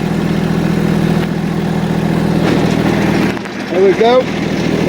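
A tractor engine idles steadily with the PTO engaged for tilling, a continuous mid-pitched drone close by that dips briefly near the end as a voice speaks over it.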